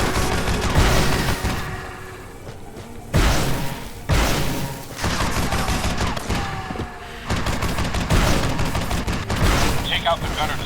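Heavy turret gunfire from the video game Fracture, loud and near, in sustained rapid bursts broken by brief pauses, with deep booming impacts mixed in.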